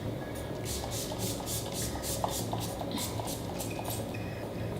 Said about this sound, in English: so we're going to spray our face.